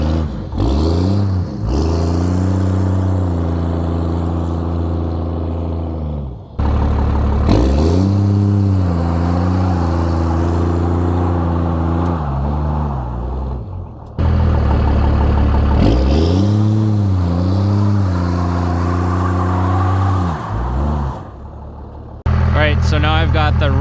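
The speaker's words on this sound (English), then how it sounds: "So we'll start with the burnout test first" A 1st Gen Cummins truck with a Dana 70 Powr Lok does a burnout test, one wheel on packed snow and one on dry pavement; a loud close engine roars in three long revving runs, its pitch climbing and falling.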